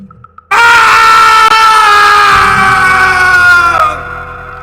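A loud, sustained scream rings out for about three seconds, harsh and close, then cuts off abruptly.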